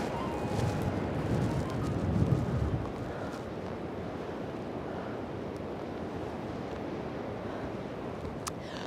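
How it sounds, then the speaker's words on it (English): Ocean waves breaking on the rugged shore at Spanish Point, Ireland, on a gray winter day: a steady broadband roar of surf with a louder swell of crashing water early on, wind buffeting the microphone throughout. "I might just photograph some waves"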